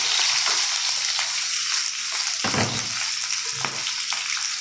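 Ingredients for a chicken and potato curry sizzle loudly in hot oil, a constant hiss broken by soft stirring scrapes and clinks, with no voices.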